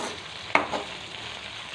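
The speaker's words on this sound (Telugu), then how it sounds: "ఉల్లిపాయ ముక్కలు కాకరకాయ ముక్కలు ఆయిల్లో మగ్గుతున్నాయండి" Onion and bitter gourd pieces softening in hot oil for a curry: a steady soft sizzle close by, with one brief stirring clatter partway through, no talk.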